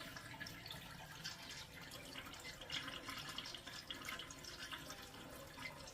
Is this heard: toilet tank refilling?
yes